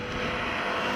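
A 2017 Audi RS3 sedan engine roars steadily and loud, a continuous full-bodied drone that stays at one level for the whole moment.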